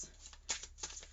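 Tarot-style message cards being shuffled and drawn, a soft papery riffle with a few brief louder swishes and slaps, close and quiet with no voices.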